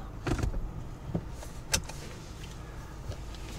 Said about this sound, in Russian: замыкаем машину, и с пульта работает